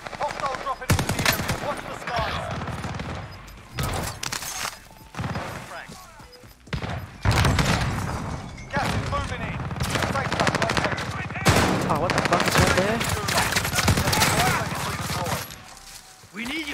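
Rapid bursts of automatic gunfire and single shots from guns in the video game Call of Duty: Vanguard come loud and repeated, with brief gaps, as a player talks at times over the shooting.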